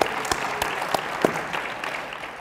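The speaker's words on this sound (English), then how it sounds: "I'm glad I got some applause for that one" A university audience applauds, a brief burst of scattered claps that starts loud and gradually fades.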